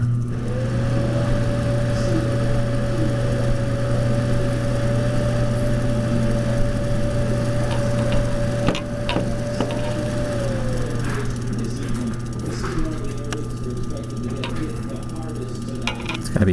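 Fireplace blower fan runs steadily with a faint irregular clicking as if a blade hits something, under a television weather forecast voice and a brief whine.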